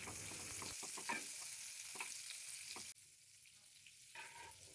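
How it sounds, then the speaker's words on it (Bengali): A spoonful of butter goes into hot frying oil for a garlic butter chicken dish, giving a faint, steady sizzle broken by soft stirring clicks, then a sudden drop before the frying picks up again. "এবার ভাজা তেলের মধ্যে বড় 1 চামচ বাটার দিয়ে দিলাম।"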